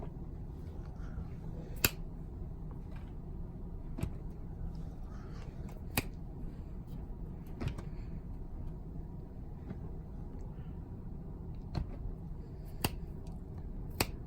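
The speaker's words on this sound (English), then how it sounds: "I'm going to snap instead of clap here" Finger snaps played as input for DK Bongos on the Dolphin GameCube emulator: about eight crisp, sharp snaps at irregular intervals over a steady low background hum, with no talking.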